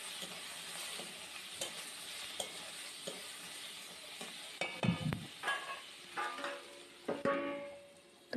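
Taro pieces frying in a pan with salt and turmeric, stirred with a utensil: a quiet low sizzle with scattered scraping and clattering strokes that grow busier and more frequent toward the end.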